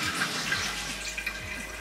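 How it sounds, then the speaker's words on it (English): Water runs through a home hydroponic system in a steady, close, rushing trickle with a faint gurgle, continuous throughout. "you may hear the water go through now"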